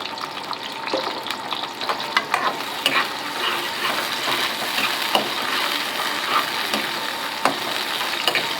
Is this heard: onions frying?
yes